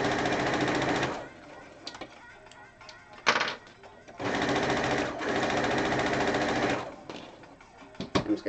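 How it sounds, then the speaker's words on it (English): Sewing machine stitching fabric in two loud, steady runs, with quieter handling noises and brief clicks between them, while adjusting the piece to sew the other side. "when I have 3s like this, I sew one side, and then I flip it around, and sew the other side"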